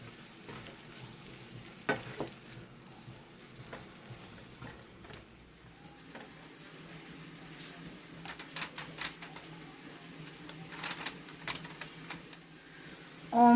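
Sausage and peppers cooking down in pan drippings, a soft steady sizzle broken by scattered clicks and scraping stir strokes, growing busier toward the end, with no talking.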